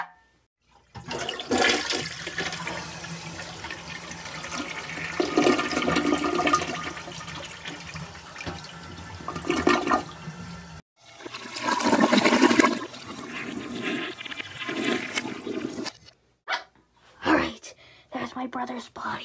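A toilet flushes with a loud rushing swirl of water that drains off, close by, with a second shorter flush and bursts of gasping and whispering voices around it.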